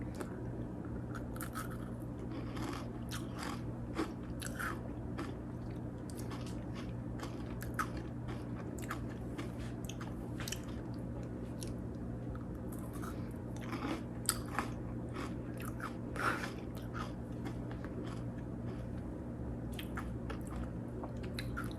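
Close, quiet crunching and biting of brittle strawberry crystal candy, steady irregular crisp cracks over a low background hum, no talking.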